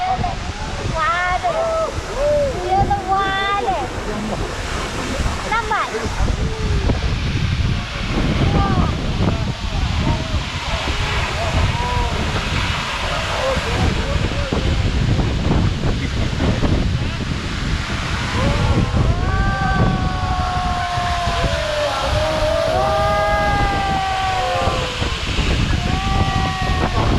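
Stirling Falls at Milford Sound, New Zealand, heard as a loud, continuous roar of falling water mixed with heavy wind buffeting the microphone, while people talk over it at intervals.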